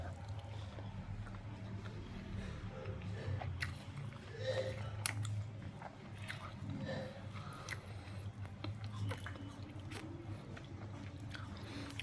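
Dosa with chutney being chewed, soft biting and mastication sounds close to the mic over a steady low background hum, no talking.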